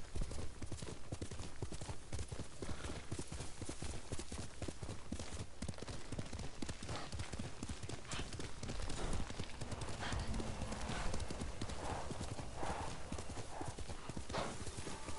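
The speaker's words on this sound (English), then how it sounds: "You're a good horse." Horse galloping in the samurai video game Ghost of Tsushima: a steady, rapid clip-clop of hooves at close range, continuous throughout, with game ambience and occasional faint voice underneath.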